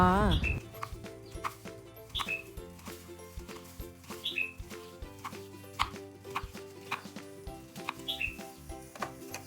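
A knife chops cucumber rhythmically against a cutting board, sharp regular strikes over soft background music.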